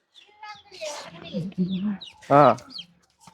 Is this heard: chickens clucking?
yes